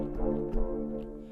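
A soft synth chord patch built in Vital plays a single sustained chord, warm and mellow, swelling gently with faint pulsing movement, heard alone and fairly quiet.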